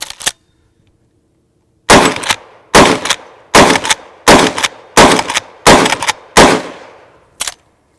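A Henry Big Boy carbine in .357 Magnum fires polymer-tipped rounds outdoors: eight loud, sharp reports, seven in a steady lever-action rhythm of about one shot per 0.7 seconds with a short echo tail on each.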